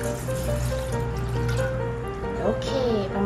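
Two measuring cups of water poured into a camping pot, a steady liquid trickle and fill lasting the whole moment, heard under someone talking.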